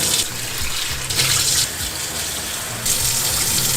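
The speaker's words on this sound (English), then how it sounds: "So what we have to do is throw away that liquid and wash your ampalaya." Kitchen tap water gushing steadily into a sink while bitter gourd (ampalaya) is rinsed, close and loud with brief surges as the flow hits the vegetable, no talk.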